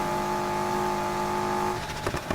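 The flat-4 engine of a Lotus Exige S in the racing game Need for Speed Heat revs hard and loud with a steady droning pitch, then lets off into gear-change pops and crackles.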